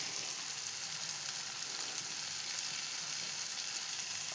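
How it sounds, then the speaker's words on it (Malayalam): A yam roast fries steadily in a pan after masala powder goes in, making a continuous, even, hissing sizzle that stays close and holds the same level throughout, with no voices. "ഇനി നമുക്ക് കുറച്ച് മസാലപ്പൊടിയും കൂടി ഇട്ട് കൊടുക്കാം."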